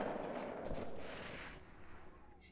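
A gunshot from the Delta Force 2 video game, likely a .50 cal rifle fired from a kneeling position: a broad, loud crack and boom that rolls off into a fading echo over about two seconds, with no talk.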